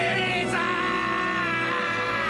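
A Freaker scream from the video game Days Gone, voiced by a death metal vocalist: a sustained, harsh, strained howl that holds steady and loud for over two seconds, close and alone.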